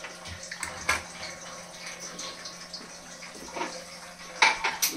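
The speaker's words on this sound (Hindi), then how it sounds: "पानी बंद कर दिया है तो आवाज़ बहुत कर रहा था" Tap water runs into a drum in a home kitchen, a close, uneven splashing and gurgling with a few sharper knocks.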